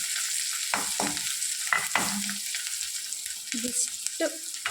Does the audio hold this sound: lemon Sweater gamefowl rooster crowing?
no